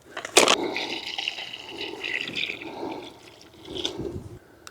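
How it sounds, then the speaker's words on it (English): Water is poured over a new seating area built from recycled wood at an allotment garden, a close splashing gush that swells, eases into trickling and returns, with no voices. "let's get some water on it"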